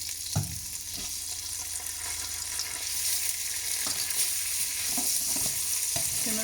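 Chickpeas fry in a pan with chili sauce, producing a soft continuous sizzle with a few scattered stirring scrapes and taps, fairly quiet.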